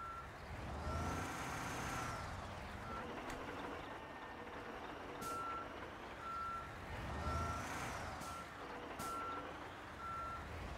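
Truck reversing in a construction simulator video game, with a steady series of evenly spaced electronic backup beeps over a loud diesel engine rumble and occasional air brake hisses, no one talking.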